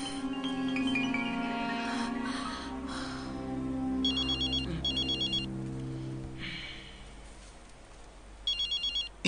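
A telephone rings in a dramatic scene, a melodic ringtone that grows clearer in short repeated bursts over background music, fairly faint in the mix.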